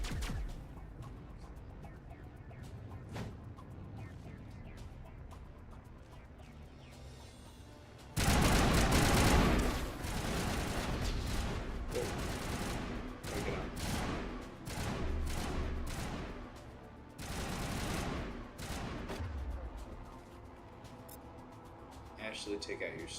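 Assault rifle fire in the Mass Effect video game comes in several loud bursts of rapid shots, starting abruptly partway through and recurring in clusters, with quieter game ambience between them.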